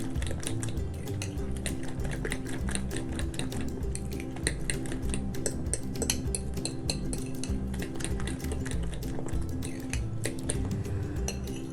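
Omelette eggs with salt and red chili being stirred in a bowl, a fast, continuous clatter of utensil against dish, close and steady throughout.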